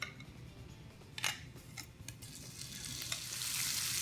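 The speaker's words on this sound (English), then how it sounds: "now that we've got our butter nice and hot, let's go ahead and add in our shrimp" Shrimp coated in blackened seasoning frying in hot butter, a soft continuous sizzle with a few sharp clicks and scrapes of a utensil against the pan, the frying hiss growing brighter toward the end.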